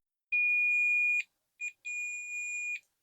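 A multimeter's continuity beeper sounds while a soldered DIY OTG cable is tested: a steady, fairly faint high tone of about a second, a short blip, then a longer tone.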